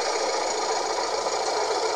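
A postman's van engine runs with an odd, dense rattling whir that stays loud and constant from start to end, with no voices.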